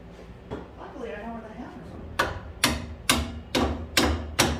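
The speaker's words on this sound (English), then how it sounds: "You might need a hammer." Six sharp, evenly spaced hammer blows knock a part into a wooden table during assembly. They come after a stretch of quiet, muffled handling and scraping.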